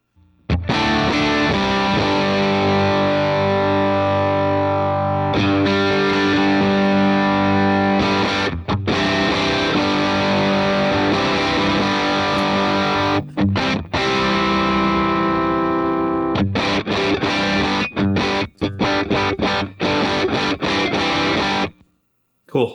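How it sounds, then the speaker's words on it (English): An electric guitar plays through stereo tube amps driven by a Blammo overdrive pedal, giving sustained distorted chords and riffs with brief stops, loud and continuous with no talk over it. "So we'll go over to the Blammo."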